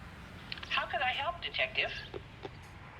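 A filtered telephone voice in the video game LA Noire, a brief tinny line with phone-call quality and a few clicks, heard close in a quiet scene.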